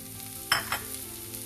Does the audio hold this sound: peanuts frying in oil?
yes